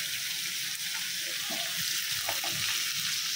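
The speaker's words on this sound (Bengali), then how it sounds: "তো মাছটা ভাজবো আস্তে আস্তে।" Fish sizzles steadily as it fries in a pan on a home stove, a constant close hiss with a few soft clinks and stirring sounds over the top.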